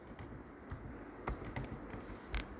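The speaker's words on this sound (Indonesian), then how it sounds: "ketik storage." Typing on a laptop keyboard: a handful of soft, irregular key taps and clicks close up, with a couple of firmer presses over a low background hiss.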